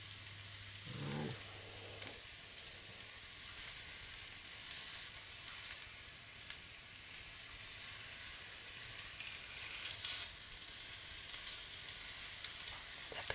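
Rabbit pieces searing in a cocotte, a steady close sizzle of frying that runs unbroken throughout, with a couple of faint knocks early on and no talk.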